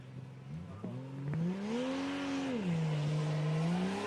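Drift car at the Suzuka Twin circuit in a 2019 drift competition qualifying run, its engine rising in pitch as it pulls away and accelerates, then holding a steady loud drone near the end, with no voices over it.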